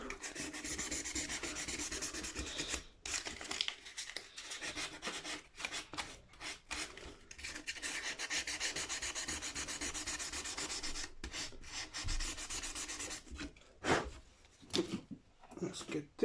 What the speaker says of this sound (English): filing it down to the right height and polish it up. So this is 1200 grit.